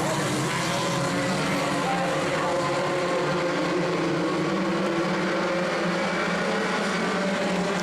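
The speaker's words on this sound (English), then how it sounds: "Green flag flies and we're racing." A pack of Focus Ford midget race cars roars off at the start of a B main, engines blending into a loud, continuous droning wall of sound with a commentator talking over it.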